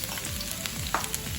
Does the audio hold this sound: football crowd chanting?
no